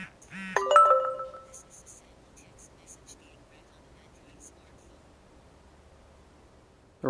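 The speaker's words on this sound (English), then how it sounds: "I'm going to send it a text message so you can see what the software does and hopefully hear it come through the headset itself." A short electronic text message alert chimes through a BlueAnt Q1 Bluetooth headset, one brief melodic tone followed by faint ticks and near silence.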